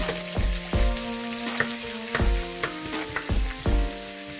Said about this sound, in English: We're going to give these onions to saute for